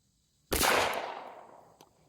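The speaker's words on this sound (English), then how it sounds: "Locks back smartly and fires everything we put in it." A single loud, close gunshot from a Beretta 1951 9mm pistol fired outdoors at a range, a sharp crack followed by a long fading echo, then a faint click near the end.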